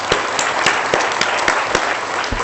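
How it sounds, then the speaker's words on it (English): Audience applause for a performer at a university opening ceremony, continuous dense clapping from a large room with a few sharper individual claps standing out. "I think he deserves another round of applause."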